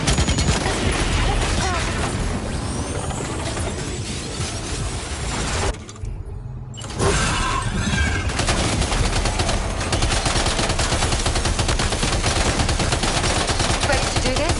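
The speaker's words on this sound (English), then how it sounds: "Open fire." Heavy, sustained gunfire in Death Stranding 2 roars loudly and densely, dropping out for a brief moment midway before the barrage resumes just as intensely.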